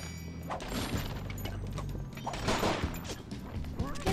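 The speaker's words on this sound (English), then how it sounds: "We shoot the team leader." Gunfire in the Sly Cooper: Thieves in Time video game, a busy run of overlapping shots and impacts mixed with game music at steady moderate loudness.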